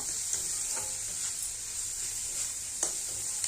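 Fish masala with a little sugar sautéing in a pan gives a steady bright sizzle throughout, with several soft scraping strokes of a spatula at irregular intervals, close, with no talk.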